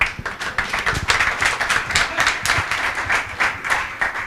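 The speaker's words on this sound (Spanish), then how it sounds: "Bueno, pues con estos aplausos," Audience applause at an architecture energy round-table session, a dense steady wash of many hands clapping throughout, fairly loud and close, with no talk over it.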